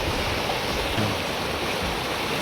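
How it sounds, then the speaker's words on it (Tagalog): Lindsay Creek, swollen after a night of rain, rushes past a property in a dense, steady, broadband roar of flowing water, close and continuous with no voices. "Maano yung agos. Dahil magdamag nag-uulan"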